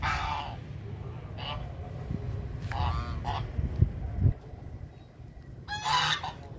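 Geese honk nearby in several separate bursts of loud nasal calls, with a final louder burst near the end, over a low background rumble.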